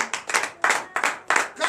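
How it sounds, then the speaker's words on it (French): A worship congregation claps in acclamation, loud rhythmic bursts of hand claps roughly every third of a second, close and lively, with no clear speech over them. "Donnez l'acclamation au Seigneur Jésus."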